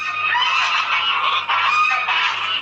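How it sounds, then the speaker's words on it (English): A gaggle of geese honking loudly and close by, a dense overlapping chorus of harsh nasal calls that rises and falls in waves, no talk over it. "Oh no, it's a gaggle of geese, and they're coming for her."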